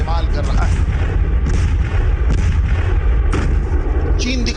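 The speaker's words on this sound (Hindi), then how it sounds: "इसमें वो बख्तरबंद गाड़ियों और तोप का इस्तेमाल कर रहा है" Continuous loud rumbling of heavy artillery fire and booms during a Chinese military exercise with armoured vehicles, dense and low, with repeated blasts and no clear pauses.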